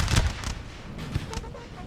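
Artillery fire in a Napoleon Total War siege battle at Vienna in 1809, a few muffled booms spaced across under two seconds, rather faint and distant, with speech faintly mixed in.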